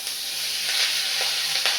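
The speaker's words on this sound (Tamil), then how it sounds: "இப்போ கொஞ்சமாக நான் பட்டர் சேர்க்குறேன்." Butter hits a hot pan already cooking moringa leaves, lentils, onion and tomato for soup, producing a steady close sizzle and hiss with faint stirring crackles throughout.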